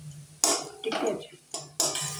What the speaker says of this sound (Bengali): ভালোভাবে আবার মিশিয়ে নিচ্ছি আলুর সাথে